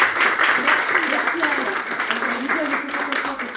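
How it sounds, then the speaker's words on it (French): An audience claps in thanks for a woman who brought homemade cakes to a mediumship conference, steady applause filling the whole moment while a voice speaks over it. "Donc on la remercie, on l'applaudit"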